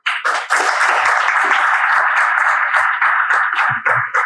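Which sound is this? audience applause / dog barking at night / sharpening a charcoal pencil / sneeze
audience applause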